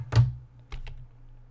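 A computer keyboard gives a few isolated clicks close to the mic over a low steady hum: one firm key press, then two lighter taps.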